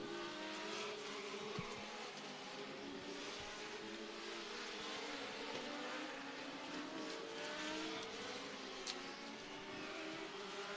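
Street stock race cars practice laps on a speedway during the Joe Sheedy Memorial Street Stock 63 event, their engines making a continuous, distant roar that swells and fades with no commentary.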